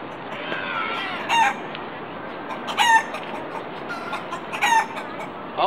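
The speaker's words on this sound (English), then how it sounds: "Yoo-hoo! Birds!" Birds in Central Park let out sharp bright calls in three or four short bursts over a steady outdoor background hiss.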